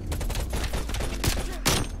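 A QBZ-83 rifle fires in Call of Duty Cold War, giving a rapid, continuous string of automatic gunshots throughout, loud and close.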